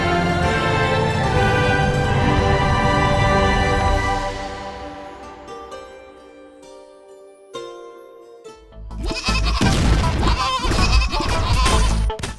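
Goat bleats in a trailer for the top-down 2D roguelite shooter Scapegoat: a loud, sustained tonal stretch fades to a quiet lull, then a dense, loud burst of sound returns.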